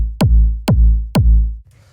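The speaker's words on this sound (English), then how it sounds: "this is just like a pretty fat sort of 909 style kick" A fat 909-style kick drum for funky deep house hits three times in a steady, evenly spaced pattern. Each hit is loud and close, with a punchy attack and a deep booming tail, and plays alone.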